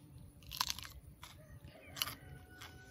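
Crisp bites into a Santa Fe hot pepper fresh from a garden, two sharp crunches followed by soft wet chewing, close and quiet with no talk.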